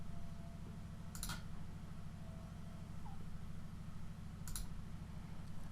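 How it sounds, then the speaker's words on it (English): Two sharp, brief clicks from a computer mouse stand out, spaced a few seconds apart over a faint steady hum, close and alone without speech. "just click on that tab"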